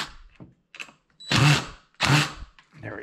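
An impact drill drives a screw into wood in two loud, close bursts of about half a second each, with quieter fiddling noises around them.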